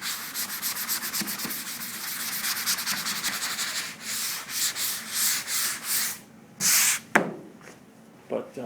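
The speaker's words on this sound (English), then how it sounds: "Great for block sanding." Steady rhythmic scraping of sandpaper on a squeezable foam sanding block worked over a 1965 VW Karmann Ghia body, close and continuous for several seconds, then breaking into shorter separate strokes.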